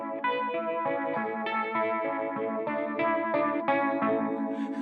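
An electric guitar runs through a shimmer pedal set to maximum, each strummed chord swelling into bright, chorused, echoing tones with a faint distorted edge, played alone at moderate volume.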